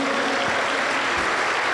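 A Pentecostal church congregation claps dense, continuous applause for the Lord Jesus, a loud, even wash of hands filling the room.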